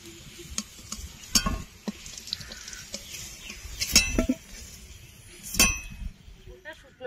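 Potatoes fry in a pan with turmeric, giving a soft sizzle. A utensil stirs them with sharp intermittent clinks and scrapes against the metal.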